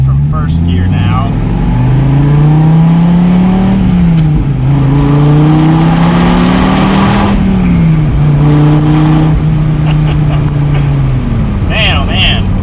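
A Dodge Viper pulls away from first gear, its engine rising in pitch through a long rev, easing briefly, then climbing again, loud and close from inside the car with no talking.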